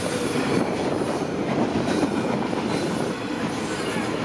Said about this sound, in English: So it's safe to assume this is at least a 2 mile train.